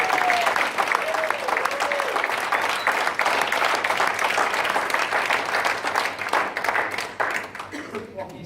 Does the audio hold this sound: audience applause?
yes